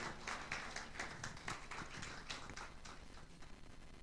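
Audience applause for a speaker at a sharing session in Kuala Lumpur, a burst of quick, uneven claps heard faintly from a distance that slowly thins out.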